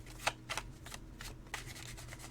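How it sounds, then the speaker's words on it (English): A tarot card deck is cut-shuffled, giving a series of soft, close papery slaps and rustles in an uneven rhythm, faint and alone. "Let's just start cut shuffling."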